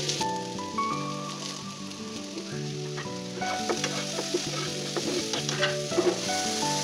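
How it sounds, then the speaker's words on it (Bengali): Jackfruit seeds fry with green chillies in a pan, a close, crackling sizzle with scattered pops that grow busier toward the end, under a soft steady music bed. "কাঁঠালের বিচি ভাজা শেষ।"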